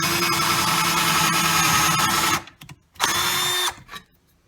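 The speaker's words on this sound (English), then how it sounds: "Put it in the drill" A power drill drilling a quarter-inch hole near the edge of a karambit knife whines steadily for a couple of seconds, stops, then runs again briefly before spinning down; close and loud, no voices.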